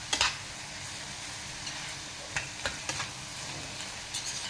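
Finely chopped cabbage for poriyal is stirred in a hot pan. A steady soft sizzle runs throughout, broken by several sharp spoon clicks and scrapes, close and quiet, with no talk.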